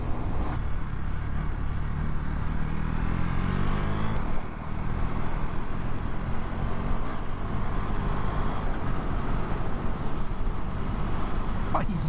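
A KTM Duke 390 motorcycle being ridden, its engine droning loud and steady up close with heavy wind rush, one brief dip in the middle, and a rider talking over it.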